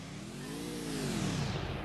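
A car engine in the Free Fire video game revs upward, rising in pitch and swelling in loudness over about two seconds, heard alone without talk.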